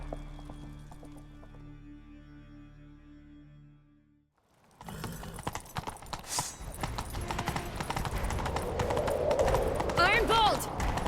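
Horses gallop in The Witcher 3, a rapid drumming of hooves that starts after a quiet stretch and stays loud and steady, with game sounds and voices mixed in.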